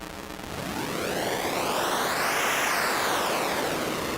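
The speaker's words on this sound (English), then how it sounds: "And then we have digital noise." A digital noise oscillator on the Lagrange multi-engine synthesizer for iPad gives a broad, steady hiss swept by a filter, rising and then falling in a slow arc, loud and alone.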